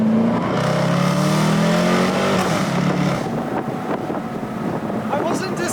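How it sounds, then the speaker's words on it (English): Jaguar SVR exhaust note echoing off surrounding walls, a loud throaty engine drone that sweeps past and fades into rumbling, with wind buffeting the microphone. "this would be absolutely perfect to hear the exhaust notes"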